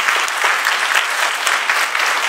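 An audience applauds at a perfume brand press conference, a loud, steady wash of many hands clapping together without a break.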